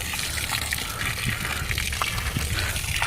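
Water pours into a pit and bubbles up, producing a loud, continuous gushing and churning close by with no speech.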